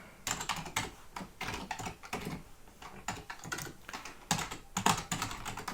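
Code being typed on a computer keyboard: a steady run of crisp, close keystrokes in irregular bursts with short pauses, no talking.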